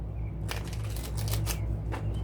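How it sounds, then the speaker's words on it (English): A deck of tarot cards being shuffled by hand, a short burst of riffling flutters and soft slaps over a low steady hum. "Let's shuffle 3 times and we'll lay it out."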